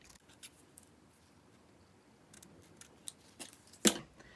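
Quiet snips of scissors trimming ribbon, a few soft clicks building to one sharper, louder cut near the end.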